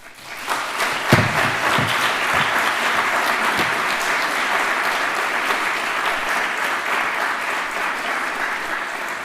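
A large audience claps steadily and loudly for several seconds, the applause sustained and dense throughout.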